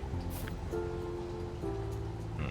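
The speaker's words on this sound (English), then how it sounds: "It's raining today." Steady rain falls throughout a video game scene, a soft continuous patter blended with gentle background music tones.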